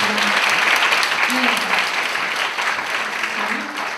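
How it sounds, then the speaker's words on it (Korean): A church congregation claps loudly and steadily through a Korean university-group worship service, with faint voices and murmurs mixed under the dense applause. "큰 박수로 우리 하나님의 이름을 찬양하며 나아가기를 원합니다"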